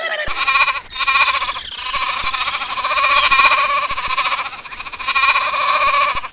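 Goats bleat loudly and close by, several overlapping calls forming an almost continuous wavering chorus with brief dips, and no talking over them.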